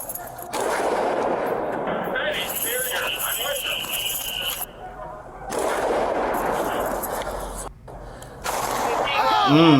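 Police officers fire gunshots during a failed bank robbery, sharp loud bursts at close range in several clusters between stretches of shouting voices and radio chatter.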